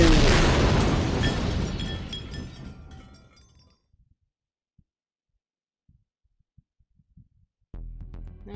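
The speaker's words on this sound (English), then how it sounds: "Time to see the explosion again." An explosion in the video game 428: Shibuya Scramble bursts loud with glassy breaking debris, fading over about four seconds into near silence broken by small clicks before game sound resumes.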